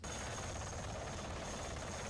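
Helicopters over Saigon during the evacuation, captured in archival footage: a continuous, dense rotor and engine roar that holds steady throughout, moderately loud, with no voices over it.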